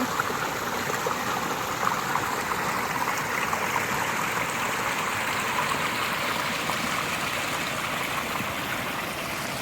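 Water rushes along a stream beside rice fields in a steady, broad, close flowing wash that continues unbroken, with no speech.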